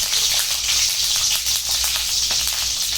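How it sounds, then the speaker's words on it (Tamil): Continuous loud sizzle of tomato, shallots and coconut frying in hot oil for a chicken gravy, a dense steady crackle close up with no pauses. "நல்லா வதக்கிக்கிறேன்"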